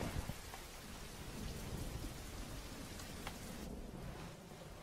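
Steady rain with a low rumble of thunder in an animated film, a constant quiet wash of falling water throughout.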